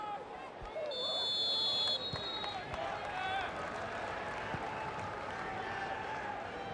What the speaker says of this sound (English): The crowd here enjoying it.